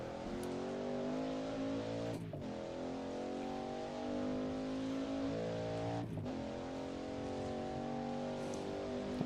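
Race cars in a Le Mans racing video game hold a steady engine drone, with gear shifts about a few seconds apart and no voices.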